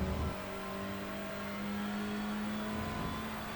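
A Mercedes race car engine in the iRacing video game holds a sustained mid-pitch drone with a steady tonal hum, fairly faint and distant, after a brief louder rev at the start; no voices.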